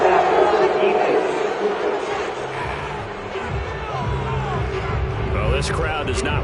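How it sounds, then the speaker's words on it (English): Football stadium crowd at a Raiders vs Broncos game reacting to a roughing-the-passer personal foul penalty, a loud sustained roar and murmur of disapproval filling the stands throughout, with scattered shouts and whistles rising near the end. "Well, this crowd does not like that call."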